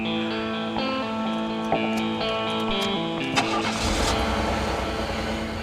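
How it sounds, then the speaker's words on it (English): A car engine cranks with a whirring starter and then catches and settles into a running roar, close and fairly loud, with no voices. "All right, time to turn on the car."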